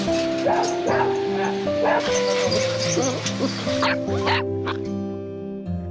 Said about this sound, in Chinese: 据犬舍的主人康志拓介绍，这里全是他精心饲养的几十条金毛犬。